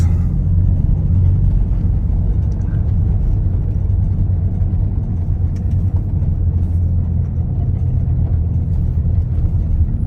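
A Porsche drives into Sopot, giving a steady, loud low engine and road rumble heard from close by that holds constant throughout.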